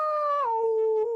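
A storyteller's voice imitates a wolf's howl: one sustained, wavering vocal howl that starts higher, drops in pitch partway through and holds steady, loud and close with no other sounds.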